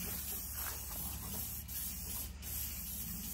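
A spray paint can hissing in a steady, continuous spray at close range, held nearly unbroken for a few seconds with slight dips, no talking.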